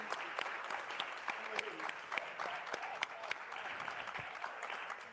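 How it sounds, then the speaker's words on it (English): An audience at a panel discussion on being Afro-Latino breaks into applause, a steady spread of clapping with sharper individual claps standing out and voices mixed in. "So can we get some applause so we can get back to the conversation?"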